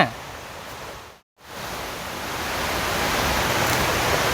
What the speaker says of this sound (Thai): แล้วเสียงน้ำตกแรงขึ้นเรื่อย ๆ